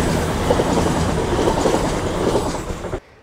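A train rumbles and clatters past close by on the mainline railway beside Teignmouth sea wall in Devon, loud and steady, then the sound cuts off abruptly near the end.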